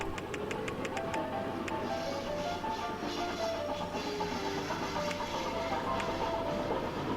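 A grain train with boxcars rolls along in the Chris Sawyer's Locomotion video game, giving a steady rumbling rail clatter with rhythmic clicks and faint squeals, continuous and moderately loud, with no talking.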